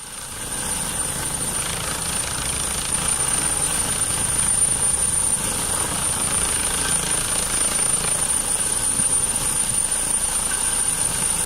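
A helicopter hovering close to a ground crew, its rotor and engine producing a loud, unbroken roar with a steady high whine layered over the top, continuing throughout with no voices.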